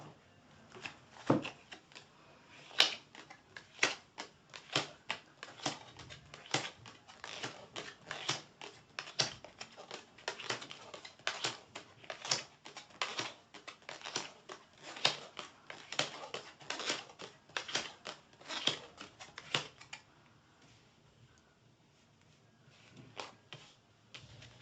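A tarot deck being cut and shuffled by hand, a long run of quick papery riffles and taps for about twenty seconds, close and fairly quiet, then near silence.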